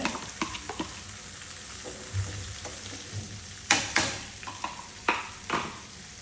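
Mango pieces fry in a hot pan with mustard seeds, giving a steady low sizzle broken by sharp crackles and spattering pops that come in irregular bursts, close and fairly loud, with no talking.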